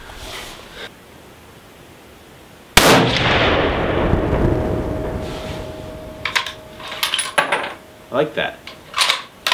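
Bolt action of a Savage Axis hunting rifle worked by hand, with a sudden loud broadband burst that fades slowly, then a run of sharp metallic clicks and clacks near the end. A voice speaks briefly.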